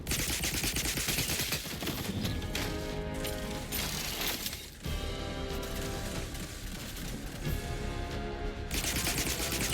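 Dense, relentless gunfire in the video game The Outer Worlds 2 rattles on for nearly ten seconds, loud and close, with overlapping bursts and crashing impacts and only a brief dip near the middle.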